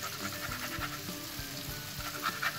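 Lemon chicken bites fry over a high flame with a steady, close sizzle and occasional crackles that run through the whole stretch without talk.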